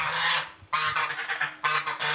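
Geese on a farm honk loudly in three close, harsh bursts separated by brief pauses, with no other sounds competing.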